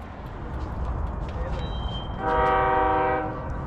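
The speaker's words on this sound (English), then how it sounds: "Train's coming." Rumbling rail noise with a train horn blaring partway through, loud and sustained, while people talk in the background.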